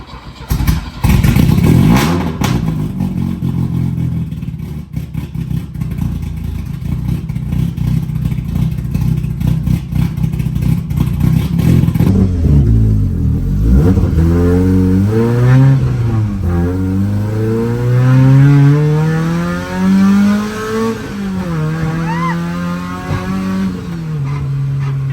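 Lightweight drift car engine at a speedway drift track, revving hard and loud throughout, with rising and falling pitch sweeps as it accelerates and lets off, plus brief tire noise, close to the microphone with no talking.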